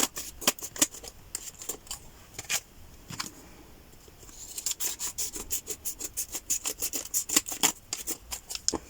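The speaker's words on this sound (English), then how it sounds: "let's just cut some of this off" Close scissors cut through paper for a handmade mini journal in a long run of quick, crisp snips, pausing briefly midway before resuming at a brisk rhythm, with no talking.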